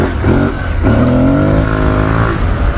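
An Aprilia Tuareg 660 motorcycle engine revs hard close by, rising quickly in pitch through a smooth, eager sweep before dropping back, loud and continuous with no talking over it.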